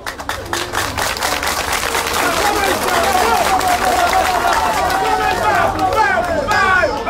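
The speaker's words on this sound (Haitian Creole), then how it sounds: "Nous demandons à tout le monde d'applaudir ce projet." An audience at a public ceremony inaugurating a 24-hour electricity project applauds, with sustained clapping from a crowd mixed with cheering voices and chatter throughout.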